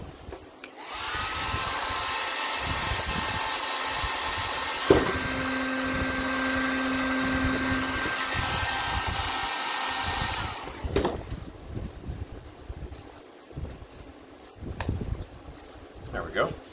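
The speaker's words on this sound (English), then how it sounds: "Using the heat gun to make a thinner neck right there." Heat gun blowing hot air on plastic for goth wreath decor, a loud steady roaring hiss for about ten seconds that then cuts off, leaving quieter handling noises and occasional speech.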